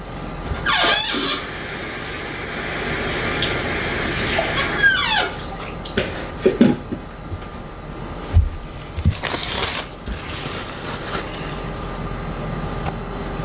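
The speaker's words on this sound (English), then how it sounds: "I'm gonna rinse this out." Water runs and splashes from a tap in short bursts, with squeaky rubbing and clinks as something is rinsed nearby.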